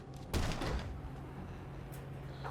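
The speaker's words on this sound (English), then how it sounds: "It's locked, but my tools should do the trick." Forcing open a locked door with tools in the war survival game This War of Mine, a sudden loud scraping and banging burst that fades into a sustained low rumble and a faint later clank.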